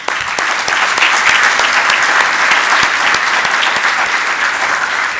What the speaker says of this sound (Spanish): Quisiera pedirles a todos ustedes un aplauso para todos.